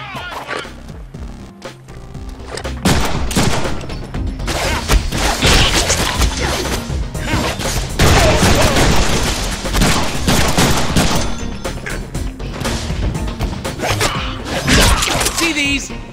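Gunfire in the Deadpool video game, dense sustained bursts of shots and crashing impacts that build after a quieter opening and carry on loudly for most of the stretch, with game voices mixed in.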